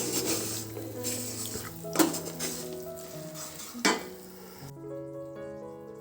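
A spoon scrapes a sticky sweet sugar-syrup mixture from a pan into a bowl, producing repeated rough scraping and rubbing strokes with a few sharp knocks against metal, close and fairly quiet, with no speech.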